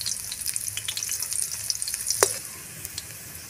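Onions added to golden-browned garlic sizzling in a pan for a home-style mung bean dish, a steady hiss with light clinks of stirring and one sharp utensil knock near the end.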